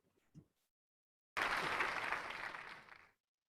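An applause sound effect added during video editing bursts in abruptly after a short quiet lead-in, a dense wash of clapping that holds steady for under two seconds and then cuts off cleanly.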